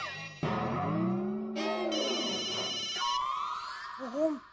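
A mobile phone ringtone plays in stepped electronic tones that shift in pitch, moderately loud and continuous, with a brief voice-like sound near the end.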